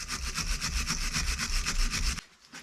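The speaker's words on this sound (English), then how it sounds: "A little bit of sandpaper is always good, because you can bend it and get it in behind" Sandpaper rubbed by hand on a Mini Cooper front brake caliper during a rebuild, a fast rhythmic back-and-forth scratching, close and steady, stopping abruptly near the end.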